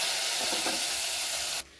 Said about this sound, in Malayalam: എന്നിട്ട് നമ്മൾ മോരിക്കറിയിലേക്ക് ഒഴിച്ചു കൊടുക്കുക